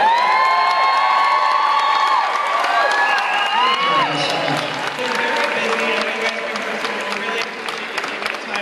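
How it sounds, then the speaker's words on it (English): An excited crowd cheers and claps for Maroon 5 at an indoor appearance, with sustained loud whoops and shrill shouts over dense applause that slowly tapers. "So we want to give them a big, big round of applause for coming out."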